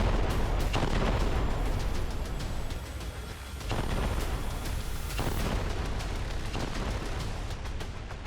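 Heavy explosions and artillery fire in Gaza rumble and boom continuously, with repeated sharp blasts standing out over a dense, loud roar of distant detonations.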